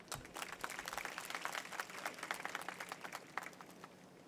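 Audience applause at a public function where a thousand schoolgirls receive bicycles: a dense, steady patter of many hands clapping for over four seconds at moderate level, with no speech over it.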